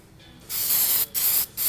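A spray can fires short hissing bursts of paint onto an end table during a trash-to-treasure makeover, three close spurts separated by brief pauses.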